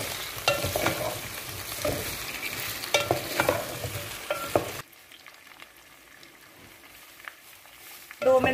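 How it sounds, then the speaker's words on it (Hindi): Potatoes frying in a pan over a low gas flame, a close sizzle with spoon scrapes and stirring clatter that drops to a quieter, softer fry partway through. "दो मिनट हो गए हमें आलू को भूनते हुए"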